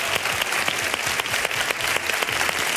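A television gala audience gives contestants a strong, sustained round of applause, dense and steady throughout with no pauses.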